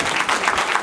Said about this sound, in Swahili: makofi mazuri bwana